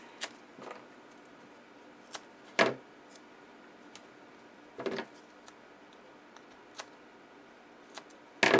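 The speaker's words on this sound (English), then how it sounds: "Grab my scissors." Scissors snip while a Halloween-themed Cricut greeting card is assembled, giving a handful of sharp, isolated cuts spaced irregularly against a quiet room.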